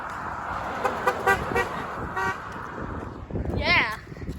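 A car horn toots once near the end, a short clear blast over traffic and street noise, with people talking beforehand.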